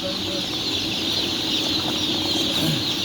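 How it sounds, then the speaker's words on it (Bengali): A dense chorus of many day-old chicks cheeping continuously, high and shrill, close by with no pauses. "এটা হলো আমাদের টাইগার মুরগির বাচ্চা"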